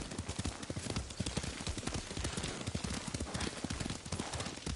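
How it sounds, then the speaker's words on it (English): Horse hooves clip-clop in a fast, steady rhythm, loud and close, as a rider travels on horseback across Iki Island in the video game Ghost of Tsushima. "Lord Sakai taught me to ride a horse"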